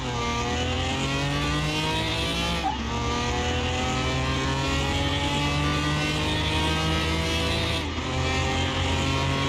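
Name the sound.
car quarter-mile drag race in video game Car Mechanic Simulator 2021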